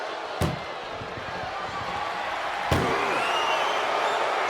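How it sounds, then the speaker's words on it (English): Ambulance door slammed shut, two sharp loud bangs about two seconds apart over a noisy crowd-like backdrop, no speech. "First door shut."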